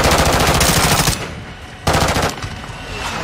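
Automatic weapons fire in Modern Warfare 2 on the Shipment map: two loud, rapid bursts of gunshots with a short gap between them, close and alone without talk.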